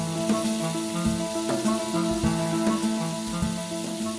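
Sausages and bacon sizzling in a pan for an Irish fry-up, a steady loud hiss with scattered pops and a few clinks of a utensil turning the food, no talking.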